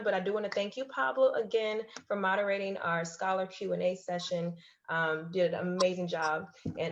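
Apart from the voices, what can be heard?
None of the usual background noises is heard.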